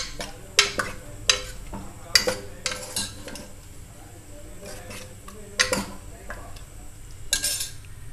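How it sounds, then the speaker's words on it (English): A spoon clinks and scrapes through gongura mutton in a pot, several sharp knocks against the metal among soft stirring, with a faint sizzle underneath, close and moderately loud. "Now mix it well along with the mutton."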